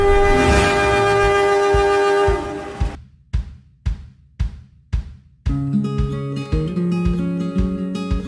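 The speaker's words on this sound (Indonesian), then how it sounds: "masinis membalas semboyan dari kondektur dengan membunyikan klakson lokomotif panjang" A long, loud locomotive horn on an Indonesian passenger train blares for a couple of seconds, followed by rhythmic clacking bursts of the moving train and then sustained tones.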